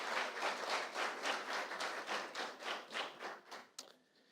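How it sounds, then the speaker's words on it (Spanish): Audience at a national dialogue seminar in Colombia claps for a speaker, a fairly even patter of hands that swells in steady pulses and then fades out with a final few claps. "La doctora Nubia Barrera Silva, un fuerte aplauso para ella, por favor."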